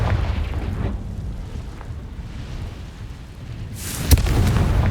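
A fiery Confringo explosive spell in the Hogwarts Legacy video game, with a sharp burst near the four-second mark over a continuous low rumble of game ambience.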